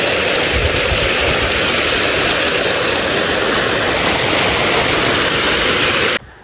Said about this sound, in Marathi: आपल्या विहिरीतून ह्या 2 पाईपलाईन आपण आणलेल्या आहेत आणि त्याच्यातून कंटिन्युअसली फ्लो होत आहे